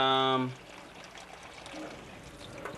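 Water poured into a cooking pot of peas, a soft steady trickle after a brief tone at the start, faint and close.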